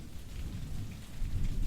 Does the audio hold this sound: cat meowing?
no